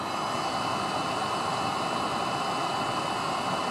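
A Webasto diesel heater fitted in a bus camper conversion runs after cleaning, giving a steady, loud, even roar of blowing air with no breaks.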